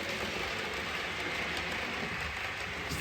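A faint, continuous rolling hum comes from a model train circling a 9V model railway layout, with soft clicking wheels heard alone.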